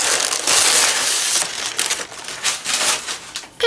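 Paper crackling and crumpling as a mailed book package is unboxed, loud and close with an irregular rustling rhythm and no talking.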